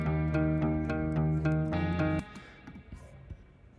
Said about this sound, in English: I think crystalline from Baby Audio is a wonderful reverb plugin.